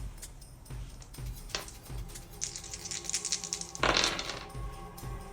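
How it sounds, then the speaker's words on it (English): Dice rolled during a Cthulhu: Death May Die board game session, three dice tossed twice, giving light clattering rattles with a louder burst near the end against quiet room noise. "he will roll his 3 dice"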